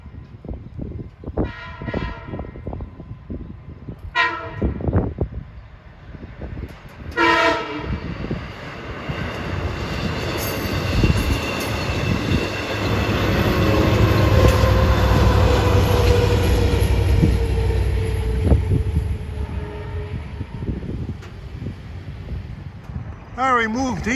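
A Long Island Rail Road local, running from Speonk to Jamaica, passes a grade crossing as its gates come down: several loud horn blasts, then a heavy, building rumble and clatter of the cars rolling close by, with a high ringing tone throughout.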